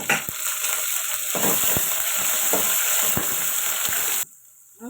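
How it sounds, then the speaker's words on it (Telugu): Curry leaves sizzle loudly in hot oil for a tempering, with a bright crackling hiss and several sharp pops before the sound drops off abruptly near the end. "ఇక్కడ కరేపాకు కూడా కొంచెం వేస్తున్నానండి"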